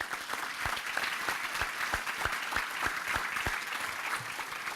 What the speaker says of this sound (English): Can we please give all these a warm round of applause?